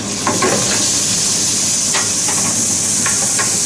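Meat juices baste and sizzle on a roasting tray as a loud, constant frying hiss, with a few brief spattering crackles and spoon scrapes rising above it.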